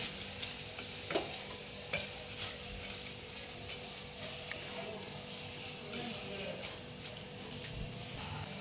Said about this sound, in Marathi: हे मोड आलेली मटकी यामध्ये टाकून घ्यायचे आहे मसाल्यांमध्ये मटकी मिक्स करून घ्यायची आहे